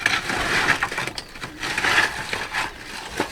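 Roof tiles that were badly stacked clatter and crack as they are moved, giving a run of close, brittle knocks and breaking crunches that come in uneven bursts.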